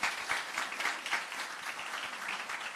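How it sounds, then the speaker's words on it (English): A crowd applauds steadily at a high school assembly, a dense wash of many hands clapping at moderate distance, with no voices standing out. "Give him a round of applause"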